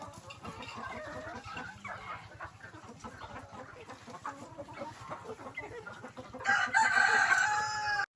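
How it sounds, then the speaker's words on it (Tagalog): Farm chickens cluck steadily close by while a rooster crows loudly near the end, with other fowl chattering in the background. "Yan yung mga manok"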